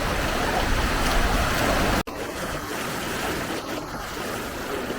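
Sea waves washing onto the shore at Tannirbhavi beach, a continuous broad roar of surf with wind, steady and fairly loud, briefly cut by a sharp break before the rushing water resumes.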